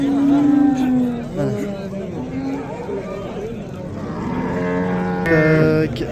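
Cows low repeatedly, several long moos close by and others farther off, at a busy cattle market in Rishton, with people talking and chattering throughout.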